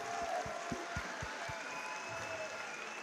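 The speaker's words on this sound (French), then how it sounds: "Très beau combat, on peut les applaudir." Audience applause breaks out after a boxing fight in an arena, a steady wash of clapping and crowd noise with a few louder low thuds early on, filling the whole moment without speech.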